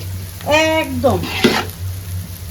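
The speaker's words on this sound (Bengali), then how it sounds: "আমার এটা লাল লাল হয়ে থাকুক, আমি ভালো করে ভাজবো।" Rice frying in ghee in a pan for chicken pulao, stirred as it cooks, gives a steady close sizzle with scraping stirs; a few brief voiced tones rise over it early on.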